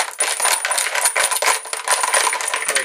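Brass rifle cases for a .277 Wolverine are shaken in a red plastic bin after a shot of case lube, producing a dense, bright metallic jingling and clattering that surges in rhythmic waves, close and loud with no talk.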